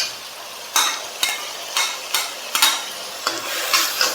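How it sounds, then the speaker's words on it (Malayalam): Chopped tomatoes sauté with onions in a pan while a spoon stirs them in repeated scraping strokes, each one bringing up a sizzling swell, close and fairly loud. "ഇനി നമുക്ക് അരിഞ്ഞ് വെച്ചിട്ടുള്ള 2 തക്കാളി ചേർത്ത് കൊടുക്കാം."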